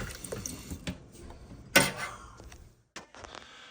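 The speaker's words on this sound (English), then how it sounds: "Don't mind my kitchen sink faucet" Water from a kitchen sink faucet splashing into the sink, a close, uneven running and dripping wash with a few louder splashes and brief pauses.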